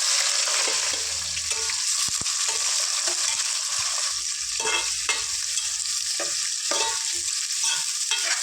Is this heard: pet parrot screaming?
no